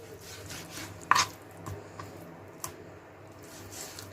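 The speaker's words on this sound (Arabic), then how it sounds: "وبقطع الشاورما" A knife chopping chicken for shawarma on a board, giving a few sparse, sharp cuts, one louder than the rest, over a low, quiet kitchen background.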